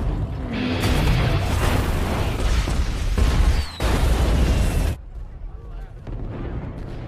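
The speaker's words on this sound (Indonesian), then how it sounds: "sembari dibarengi dengan ledakan kapal si Trumbull" Explosion of a ship in an action film: loud sustained roaring blast with crackling debris and booms filling the first five seconds, then a sudden drop to a quieter rumbling aftermath.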